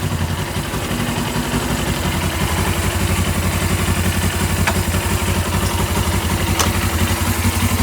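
A Suzuki GS500 motorcycle engine runs steadily throughout, a loud, continuous low rumble with even mechanical clatter and no break in the sound.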